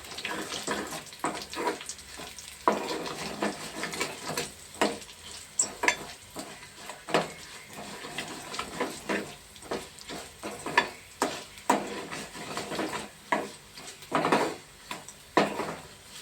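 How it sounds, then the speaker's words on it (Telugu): Cumin seeds fry and sizzle in a hot pan with steady crackling and repeated stirring scrapes, close and alone with no voices. "జీలకర్ర కొంచెం ఎందరగా వేగాలండి. దోరగా వేగితేనే బాగుంటుంది"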